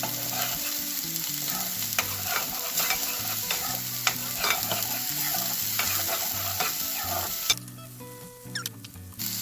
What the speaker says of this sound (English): I'll go ahead and add this tomato sauce